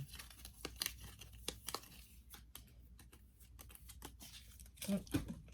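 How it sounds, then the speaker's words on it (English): A rapid scatter of light papery slaps and flutters as a tarot deck spills and lands on a floor, close by with no talking. "that sound, if you heard that sound, was the rest of that deck falling on the floor"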